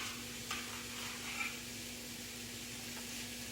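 Chopped onions sauté in a hot pan for homemade spaghetti, giving off a soft, steady sizzle while a utensil scrapes and stirs them now and then, with a faint constant hum underneath.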